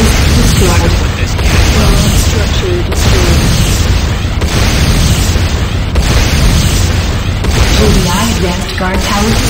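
A guard tower blows up in the Renegade video game, with loud, heavy blasts and rumbling debris that roll on almost without a break, and a game announcer's voice speaks over the din.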